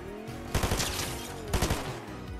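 Gunfire in Fortnite comes in two rapid bursts of automatic shots about a second apart, loud and punchy over a steady game backdrop.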